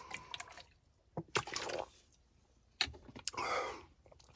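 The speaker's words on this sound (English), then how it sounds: "hold on, let me get some water" Water being drunk up close during a motivational talk: a few quick liquid sips and swallows with soft clicks and breaths, fairly quiet, in short bursts separated by pauses, no talking.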